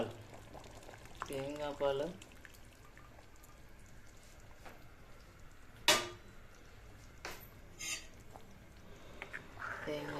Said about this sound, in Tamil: இது இன்னும் 5 நிமிஷம் கொதிக்கணும்.